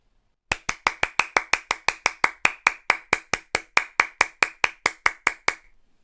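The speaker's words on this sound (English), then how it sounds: "I'm going to stop that so I don't accidentally send more claps" A button triggers a clapping sound effect: about two dozen crisp, evenly spaced claps in a steady rapid rhythm, alone and clear, ending in a faint tail.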